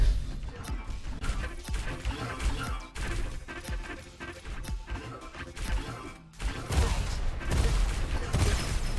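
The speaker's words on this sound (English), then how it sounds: "Nice rockets from Ben." Rocket launcher fire and explosions in a Diabotical 2v2 arena tournament match, a busy stream of blasts, crashes and mechanical clanks that runs without a break and grows heavier near the end.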